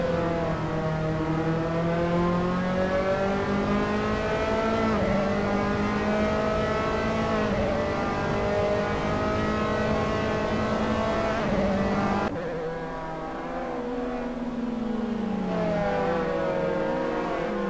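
Simulated Formula 3 race cars at Donington in Assetto Corsa, engines screaming at high revs as they accelerate, with the pitch rising and falling through gear changes and then dropping sharply under braking, loud and continuous.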